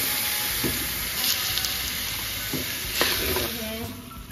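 Half a kilo of mutton frying in a pot for deghi qorma, a steady dense sizzle and hiss with occasional stirring scrapes, close and continuous without voices.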